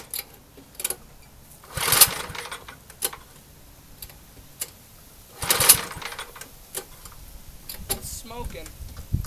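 A 1970s Ariens snowblower engine runs just after a cold start following long disuse, smoking, with uneven mechanical chatter and two louder bursts, while people talk nearby.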